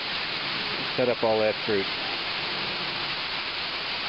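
Tomato plants in a home garden are watered with a steady, even hiss of spray that runs the whole time, while someone speaks briefly over it.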